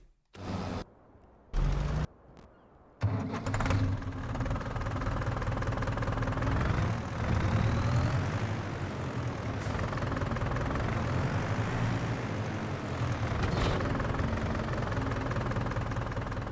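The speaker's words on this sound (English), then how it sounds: "Just a strange little tractor." A small tractor in the Farming Simulator 25 game drones steadily at a low, even pitch for most of the stretch, after a few abrupt stop-start bursts at the opening; no voices.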